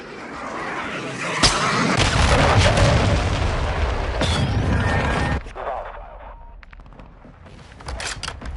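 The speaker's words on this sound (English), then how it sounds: "Our mortar strike is inbound." Mortar strike explosions in a shooter video game: deep booming blasts with crashing debris roll on continuously for several seconds, then drop away, with scattered sharper cracks afterward.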